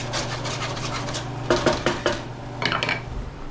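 Fresh fettuccine being tossed in a pan with mushroom sauce, metal clanking and scraping in a few quick bursts, close and alone over a low steady background hum.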